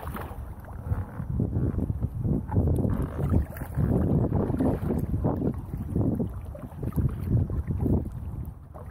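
A small boat is paddled through shallow water among stumps while fishing for crappie, giving close, irregular splashes and strokes mixed with rustling and wind buffeting the microphone.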